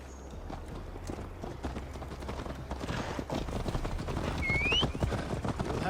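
Horse hooves clip-clop at a steady ride in Assassin's Creed Valhalla as Eivor travels toward Tamworth; the rhythmic, moderately faint hoofbeats blend with ambient outdoor noise and a brief high cry near the end.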